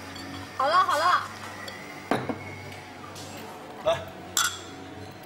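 Glasses clink in a toast at a dinner gathering: a few sharp, bright chinks spaced over several seconds, with a brief voice speaking beforehand.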